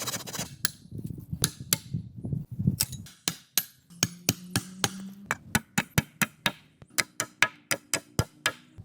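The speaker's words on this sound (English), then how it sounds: "Marshall hammers the logs one by one to create a solid frame." Sharp, regular wooden knocks of logs being hammered together into a tree shelter frame in a forest, a steady series of loud close strikes, preceded by a few seconds of rougher rustling and chopping.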